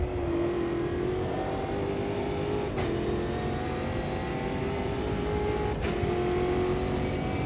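Brazilian stock car racing in Automobilista 2, a steady mid-pitched engine drone holding high revs with two brief dips at gear changes, continuous and close with no talking.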